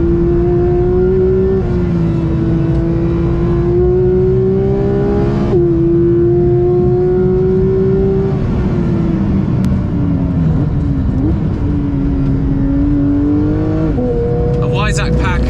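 A Porsche 992 GT3 engine wails loud and close, its pitch climbing and dropping through several sustained pulls and shifts in one continuous, high-revving drone.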